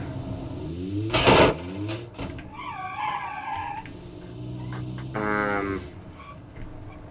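A rear-wheel-drive family car with a fairly powerful engine roars and skids through a big jump in a driving simulation game. The engine note rises and falls and tyres squeal and screech loudly throughout, with no talk.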